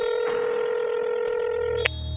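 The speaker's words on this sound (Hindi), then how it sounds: "बाबा को फोन की रिंग सुनाई देती है" A phone rings in a cartoon with an electronic tone in steady repeating pulses that plays alone and then stops abruptly.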